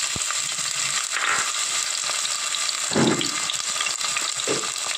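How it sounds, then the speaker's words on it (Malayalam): Chopped ginger and garlic frying in hot coconut oil for a clam meat chilli curry. A close, steady sizzle runs throughout, with a few clinks and stirring scrapes over it. "ഈ സമയത്തേക്ക് നമുക്ക് അരിഞ്ഞു വെച്ചിരിക്കുന്ന ഇഞ്ചി വെളുത്തുള്ളി ചേർത്ത് കൊടുക്കാം."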